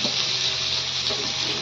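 Bitter gourd (kakrol) frying with prawns in a pan gives a steady, dense sizzle throughout, with faint stirring scrapes under it and no talk.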